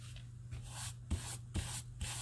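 Rubbing sticky residue off a paper page by hand, a steady soft scuffing in repeated back-and-forth strokes with a few slightly firmer passes, close and quiet with no talking.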